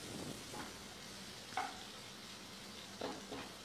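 Onion masala for chana masala sautéing in a pan, a faint low sizzle with a few soft stirring scrapes, quiet and close, no talk.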